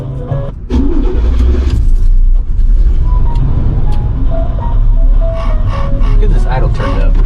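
Idling RV engine, a steady low rumble running throughout with a brief dip near the start, while people talk over it.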